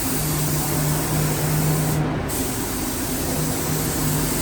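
A paint spray gun hisses steadily as it lays a coat across a Delaware State Police project, a continuous loud broadband spray with a low mechanical hum beneath and a brief dropout near the middle.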